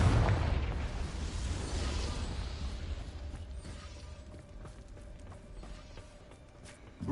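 A Confringo spell blast goes off in Hogwarts Legacy, a loud burst at the start that decays into a rumbling, creaking mechanical tail with faint ticking before another sharp hit at the end.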